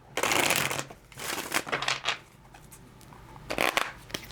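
Tarot cards are shuffled in a few quick riffling bursts, close and crisp, separated by short pauses, with no one speaking.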